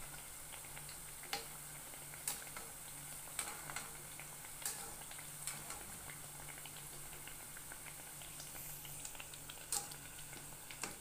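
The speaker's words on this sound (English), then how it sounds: "the oil is have a very good heat to help them cook nicely, soft and cooked inside." Mandazi dough frying in hot oil, a steady soft bubbling sizzle with occasional sharp pops and crackles spaced every second or so, close and fairly quiet.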